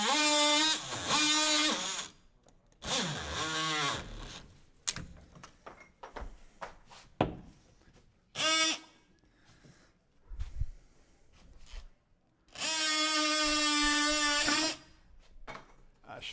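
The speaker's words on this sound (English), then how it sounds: "multi-tool sure makes it a lot easier." Oscillating multi-tool cutting during an interior door installation, heard as several loud, steady buzzing bursts of a few seconds each, separated by short gaps filled with clatter and handling noise.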